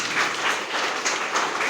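Crowd applause for the staff at an Independence Day event at a rehabilitation centre for blind people, steady clapping from many hands across the whole stretch without voices.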